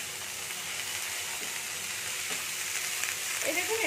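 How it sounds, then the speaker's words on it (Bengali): Shredded cabbage, cut thin and rinsed, stirred and fried in a pan for a snack, giving a steady close sizzle with a few scraping stirs, louder near the end. "এবার এটাকে আমি এর সাথে ভালো করে নেড়ে নেবো একটু।"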